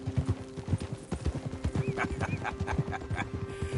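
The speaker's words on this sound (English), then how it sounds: "Get a hold of that horse, will you?" Horse hooves clip-clop steadily in Red Dead Redemption 2, with a neigh and a few whinnies rising over the footfalls and a faint voice underneath.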